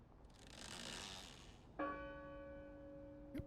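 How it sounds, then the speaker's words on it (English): A bell rings out in the video game Draugen, one sustained metallic strike with a long ringing tone after a whoosh of wind, then a second soft knock near the end. "Yep, that's the bell. I don't like that sound."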